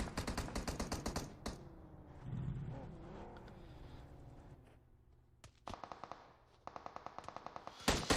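M16 rifle fire in PUBG Mobile comes in rapid bursts of sharp shots at the start and again near the end, with quieter game ambience and engine-like rumble between them.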